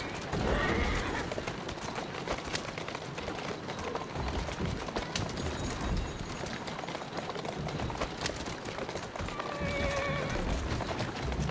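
A horse in the video game Assassin's Creed Syndicate whinnies amid a busy mix of galloping hooves and clattering movement, loud and continuous, with a second neigh toward the end.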